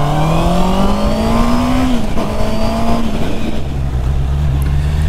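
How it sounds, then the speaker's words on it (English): 2021 Honda CB650R 650cc motorcycle engine revving hard: a loud, steady howl that rises, drops briefly and settles lower, with heavy wind roar mixed in. "It's an epic sounding engine."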